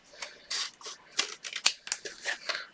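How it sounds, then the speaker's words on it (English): Scissors snip through excess card paper in a series of short, crisp cuts and rustles, close and moderately loud, with no voice over them. "Actually, let's cut off the excess now. Don't worry about it. Just use our scissors."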